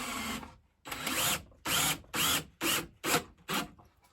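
An electric drill, quieter than a hammer drill, runs in about six short bursts with brief pauses between them, fairly faint and slightly echoing in an off-grid building.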